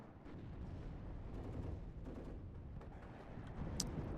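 Rocket strikes and explosions in the video game Warno rumble faintly and continuously, with scattered dull booms and crackling impacts layered over a low battlefield roar.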